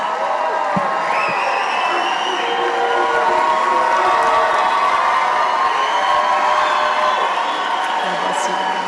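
A large crowd cheers and whoops at a Turning Point USA political rally in Phoenix, a dense, continuous roar of voices at moderate distance with speech mixed in.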